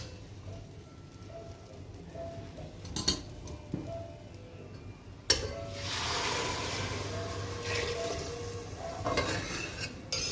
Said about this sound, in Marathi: हे पाणी मी याच्यामध्ये ॲड करणार आहे.